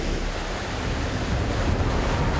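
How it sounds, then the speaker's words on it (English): Water rushing across a waterfall beneath a 4WD as it drives over the crossing on a Tasmanian track, a loud, steady broadband roar of flowing water, close and unbroken. "I'm driving across a waterfall right now."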